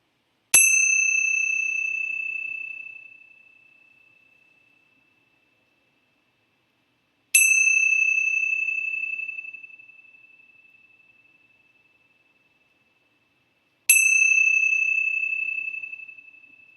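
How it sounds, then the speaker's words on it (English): Three clear bell strikes spaced several seconds apart, each ringing out bright and high and slowly fading into silence before the next. "let's begin our time with the ringing of the bells"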